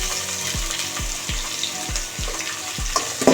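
Onion, curry leaves and coriander fry in hot oil for sambar, giving a steady crackling sizzle with a series of low thumps from stirring or handling.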